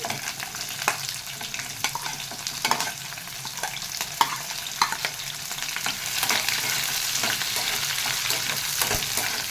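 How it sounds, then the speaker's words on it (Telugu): Green chillies and onion frying in hot oil, a crackling sizzle with sharp pops and stirring clatter that grows steadier and louder toward the end; no voices. "ఇప్పుడు మనం పచ్చిమిరపకాయ ఉల్లిపాయ వేసేసుకున్నాం"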